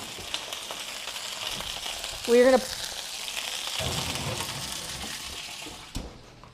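Crispy chicken pieces frying skin side down in a hot pan, giving a loud, continuous sizzle and crackle, with a brief voice and a clatter partway through.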